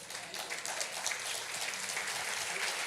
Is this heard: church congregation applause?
yes